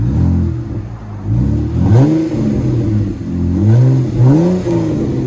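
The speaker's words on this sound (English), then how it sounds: "the BORLA gives it more of an exotic, deep sound" A 2016 Jeep Wrangler V6 with a true dual Borla Pro XS exhaust revs repeatedly, its deep tone swelling and falling in several loud pulls, heard close from outside with no talking.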